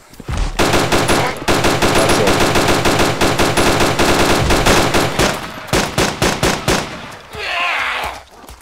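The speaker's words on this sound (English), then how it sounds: "Is that you shooting that big gun?" Big machine gun firing in DayZ, loud sustained rapid bursts that break into separated shots near the end, close and dominant with no talk over it.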